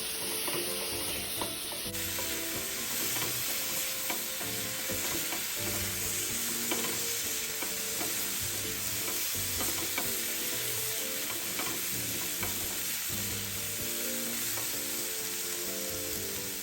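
Rice cake pieces are stir-fried with chili paste in a wok. A dense, continuous sizzle carries on with frequent scraping and stirring noises throughout, and no talking is heard.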